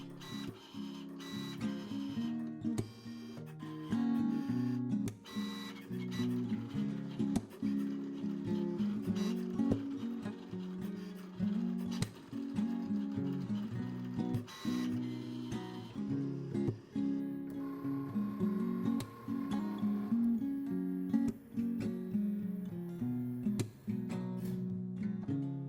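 A Cricut cutting machine cuts a card, sped up, giving a continuous whirring motor drone with rapid rhythmic mechanical stutters and carriage movement, close and steady throughout, no voices.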